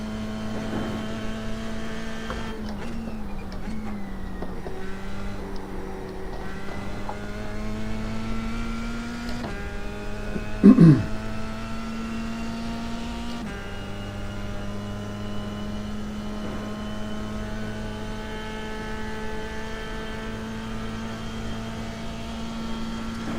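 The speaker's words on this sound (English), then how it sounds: "Hope the engine noise is a little bit better tonight." A race car engine drones steadily with a pitch that rises and falls as it climbs through gears, and a brief sharper burst comes partway through. No one speaks.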